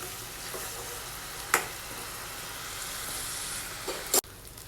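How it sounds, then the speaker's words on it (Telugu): Curry leaves frying in hot oil for a ridge gourd masala curry, a steady close sizzle broken by a couple of sharp stirring scrapes before it cuts off abruptly. "కర్రీ లీవ్స్ అన్నీ కూడా బాగా కలిసేటట్టు మిక్స్ చేసుకోవాలండి"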